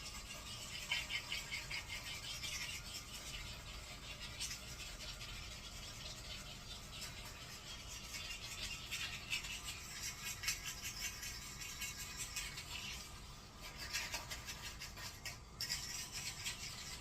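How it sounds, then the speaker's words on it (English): A pumice stone scrapes a toilet bowl in a bathroom with a quiet, continuous rasping rub and fine gritty strokes, plus a few sharper scratches near the end. "Here's a pumice stone, and we're gonna scrape this off."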